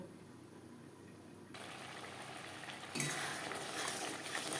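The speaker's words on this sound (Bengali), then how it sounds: "লো ফ্লেমে পাঁচ ছ মিনিট মশলা বেশ ভালো করে কষিয়ে নেব" Spice masala for egg curry sautés in a pan over a low flame, a steady close hiss of sizzling that grows louder in two abrupt steps, with no voices.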